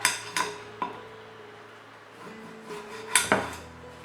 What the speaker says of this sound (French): Vous découpez votre noix de coco.